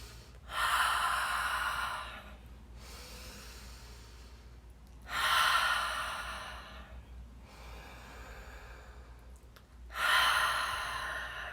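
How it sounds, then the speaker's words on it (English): Slow, deep breathwork with air drawn in through the nose and let out through the mouth: three long, close, loud breath cycles spaced about five seconds apart, with no talking. "So in through the nose and out through the mouth."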